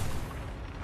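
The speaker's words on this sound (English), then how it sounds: "missile." A missile weapon fires in the futuristic racing game Wipeout Omega Collection, giving a brief, dense burst of roaring blast noise that stays steady and fairly loud.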